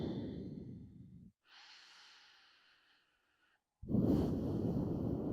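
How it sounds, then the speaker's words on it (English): Slow, audible breathing during a foot massage: a long exhale, a softer airy inhale, a pause, then another deep breath out, close and quiet. "Take a couple breaths."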